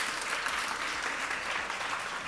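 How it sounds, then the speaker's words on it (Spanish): An audience at a creative talk event claps loudly and continuously, a dense, even wash of applause without pause. "así que un fuerte aplaudiment"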